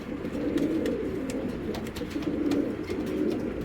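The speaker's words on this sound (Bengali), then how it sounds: "কবুতরটা দেখেন, মার্শাল্লাহ অনেক সুন্দর একটা সিলভার বাঘা জোড়া।" Silver Bagha pigeons coo continuously in a low, throaty rolling rhythm, close by, with faint higher chirps and flutters over the steady murmur.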